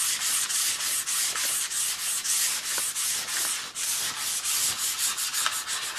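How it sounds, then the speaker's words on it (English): Steady, rhythmic rasping of a sanding block rubbing across balsa wood on a model plane, close up and continuous, with brief strokes repeating throughout and no talking. "we're just sanding off a nice thin layer right off the top"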